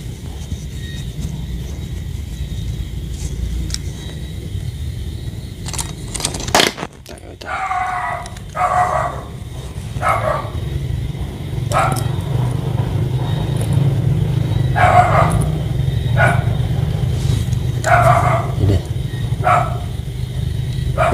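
A dog barks repeatedly at a distance, a steady series of single barks over road traffic rumble and low background noise, with faint talking.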